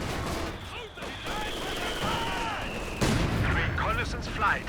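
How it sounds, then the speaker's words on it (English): Mortar fire during a Company of Heroes 2 multiplayer battle, with dense, continuous booms and blasts layered over a whistling tone, loud and sustained throughout. "Now that mortar's starting to bomb down."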